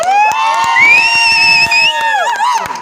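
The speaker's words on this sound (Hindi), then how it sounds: "बहुत सारी तालियां इनके लिए।" An audience at a stage drama after party cheers and whoops loudly and continuously, with high rising shouts and a few sharp claps under the crowd noise.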